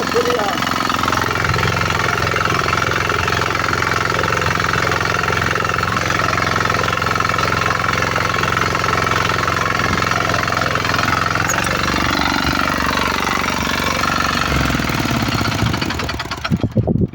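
Zubr NT-105 walk-behind tractor running with a rotary harrow, a loud continuous chugging engine drone close by that holds steady throughout, with someone talking over it and a sudden cut at the end.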